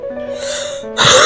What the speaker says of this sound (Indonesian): Oke, gue batuk lagi.